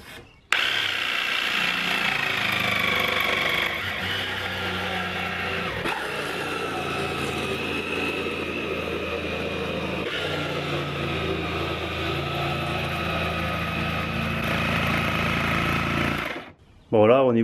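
A power saw cuts wood for the last pieces of a wooden floor in a DIY build, running steadily and loud for about sixteen seconds with a high whining tone, then stopping abruptly.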